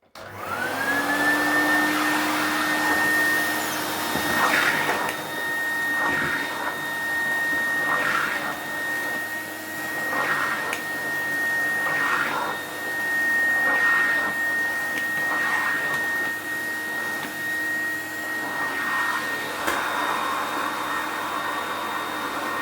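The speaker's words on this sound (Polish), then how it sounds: "odkurzacz bardzo szybko zbiera brudy" A loud, steady drone with a high whine from an old Predom Zelmer vacuum cleaner, rising and falling slightly as it is pushed back and forth over carpet, no voices.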